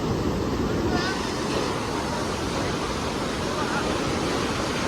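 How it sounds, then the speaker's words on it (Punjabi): Fast-flowing river water rushing past, a dense, continuous roar that stays loud and steady throughout, close by, with no voices standing out above it. "ਬਹੁਤ ਤੇਜ਼ ਪਾਣੀ ਆਉਂਦਾ ਬਾਈ ਤੁਹਾਨੂੰ ਆਵਾਜ਼ ਸੁਣਦੀ ਹੋਣੀ"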